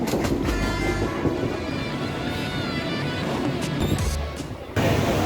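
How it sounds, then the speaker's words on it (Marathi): Mumbai local train running close by, with a loud continuous rumble, metallic clanks and rattling wheel noise over the whole stretch, briefly dipping before surging back; no talking. "एकोणीसशे साली सुरू झालेली ही मुंबई लोकल आजची मुंबईची लाईफलाईन आहे"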